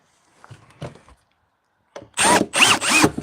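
Power drill driving screws into a wooden folding bench: a few light knocks and handling taps, a pause, then three short, loud whirring bursts close by.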